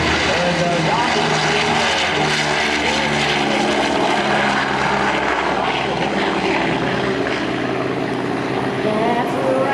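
A Boeing B-29 propeller bomber flying past at an airshow at Rosecrans Memorial Airport, its radial engines giving a loud, continuous, throbbing drone that fills the whole stretch, with speech faintly underneath.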